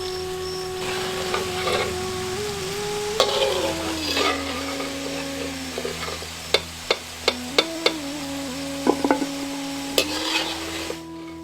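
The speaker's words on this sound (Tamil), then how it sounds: "வேக வச்சிருந்த கீரையை துண்டு துண்டா நறுக்கி கொஞ்சம் எண்ணெயில அதை பொரிக்க ஆரம்பிச்சிருவோம்" Boiled spinach pieces, cut up and fried in a little oil for a vegetarian liver-style fry, sizzle steadily under a running hum, with a few sharp ticks of stirring against the pan toward the end.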